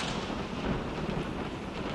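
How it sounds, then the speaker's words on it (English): Continuous rumbling storm noise with thunder and rain at sea, where a small boat is tossed by high waves, held at a steady moderate level throughout with no talking. "the storm continued to get worse"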